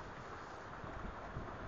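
Strong wind gusting during a thunderstorm at a pumpkin patch, a steady loud roar of buffeting air and microphone wind noise across the whole clip, with slightly stronger gusts toward the end.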